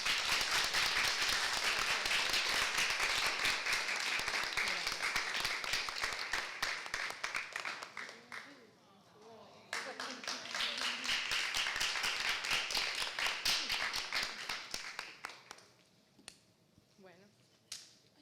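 An audience at a zero-waste cooking event applauds the chef in two long bursts of dense, close clapping, the first fading out midway, then a second round swelling and tapering off, with a brief voice in the lull.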